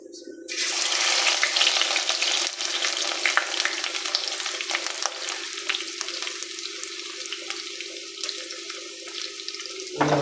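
Ginger and garlic fry in a pan for a kappa and sardine curry, a loud, steady close sizzle that starts abruptly and runs on with faint crackles, then cuts off sharply at the end.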